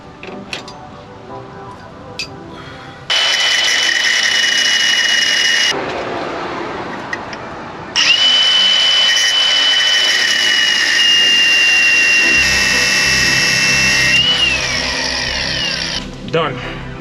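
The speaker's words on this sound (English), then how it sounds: "now I have to take it back down, cut this off with the grinder wheel, cutoff wheel" A grinder's cutoff wheel slices through a shock extender during a Belltech rear sway bar install on a lowered truck, with two loud sustained whining cuts, a short pause between them and the second run much longer.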